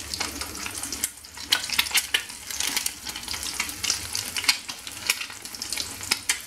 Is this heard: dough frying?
yes